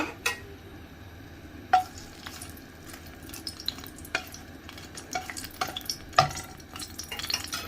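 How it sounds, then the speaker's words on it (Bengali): Four whole dried red chillies frying in hot oil in a pan, a soft steady sizzle broken by scattered clicks and scrapes of a spoon stirring against the pan. "শুরুতে দিয়ে দিচ্ছি 4টা আস্ত শুকনো মরিচ"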